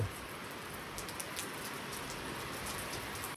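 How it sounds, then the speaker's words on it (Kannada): Steady rain falls on a rural home, a dense even hiss of drops on surfaces that holds constant throughout with no voices. "ಮಳೆನೂ ಮಸ್ತ್ ಚಾಲು ಐತಿ"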